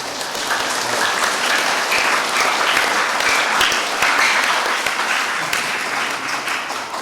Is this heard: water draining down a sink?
no